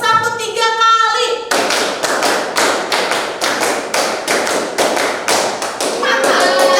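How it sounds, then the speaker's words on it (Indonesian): A group of teachers in a training session claps on cue in crisp, rhythmic sets of three, repeated several times in a row, with a voice speaking just before and after the claps. "Tepuk 3 kali."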